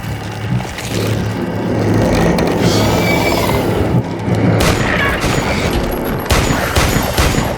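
Gunshots ring out in a horror film scene, a rapid volley of sharp cracks and booms layered over a dense, rumbling action soundtrack.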